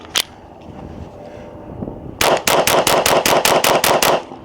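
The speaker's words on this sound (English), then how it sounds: "Next 20 rounds I'm gonna be shooting is the CCI mini mag" A rapid string of sharp shots from a SIG Sauer P322 .22 pistol firing CCI Mini Mag rounds, about ten evenly spaced cracks in quick succession at close range, after a quieter stretch with one earlier shot.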